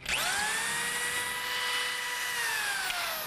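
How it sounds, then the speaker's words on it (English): A power drill whines at high pitch, spinning up quickly and holding a steady, loud grinding tone as it bores into moose antler. "And I'll take my drill and try to feed halfway through."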